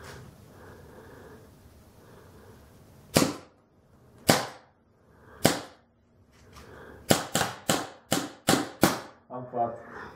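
A Kingman Eraser paintball marker fires sharp, loud pops, shooting around 240 feet per second: three spaced single shots, then a quick string of about six more.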